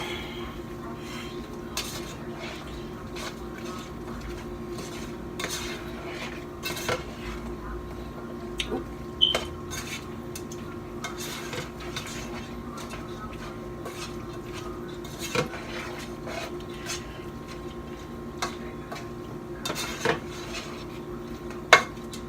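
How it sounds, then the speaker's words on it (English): Utensils scrape and clink against a pan as seasoned food is mixed, light irregular clatters and taps over a steady low kitchen hum, fairly quiet and without talk. "Gonna mix everything in now."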